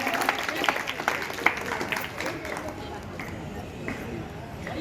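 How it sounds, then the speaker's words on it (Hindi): Crowd applause fills a devotional Hanuman Janmotsav gathering held by the Shri Ram Hanuman Sewa Dal in Patiala: steady, dense clapping from a large audience, fairly loud and close, with voices mixed in underneath. "जोरदार तालियों से इनका हौसला अफजाई किया जाए।"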